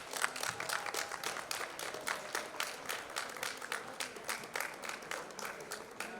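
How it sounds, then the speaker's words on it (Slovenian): Audience at a school graduation dance in Koper giving a round of applause, a fairly faint, uneven patter of clapping with distinct individual claps over a soft room background. "En aplavz, prosim."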